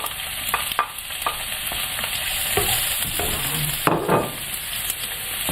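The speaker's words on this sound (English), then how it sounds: "we're going to add the onion and get the onion cooked off a little bit." Onion sizzles in a pan with chicken over moderate gas heat while a Madras curry cooks, a steady loud frying hiss broken by scraping stirs and occasional pops.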